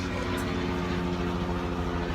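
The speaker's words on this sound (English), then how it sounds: "Helicopter." A helicopter passes overhead, its steady low rotor and engine drone filling the scene at an even, fairly loud level with no talking.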